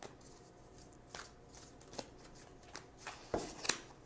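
Tarot cards shuffled and drawn by hand in a quiet room, soft papery rustles scattered through, with several sharper slaps and flicks near the end and no talking.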